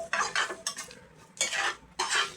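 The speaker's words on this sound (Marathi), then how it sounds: "आता ह्याला व्यवस्थित तेलात परतून घेऊयात।" Red chilli powder and homemade black spice mix being stirred in hot oil in a pan for stuffed capsicum, heard as bursts of spoon-on-metal scraping and stirring, close and clear, with no talk.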